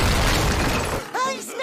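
A cartoon monster smashes a rock balanced on its head in a SpongeBob scene, giving a heavy low crash that stops abruptly, followed by brief sharp squeaky cartoon voice sounds.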